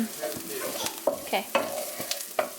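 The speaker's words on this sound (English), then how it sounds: "I'm gonna put that in the pan" Onion and already-cooked breakfast sausage are stirred in a frying pan, with a soft sizzle under repeated scraping strokes of a utensil, and a brief spoken word.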